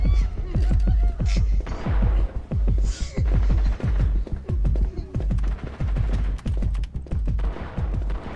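Video-game gunfire plays as rapid, punchy bursts of shots, loud and close, repeating in short runs across the whole stretch, with voices talking over it.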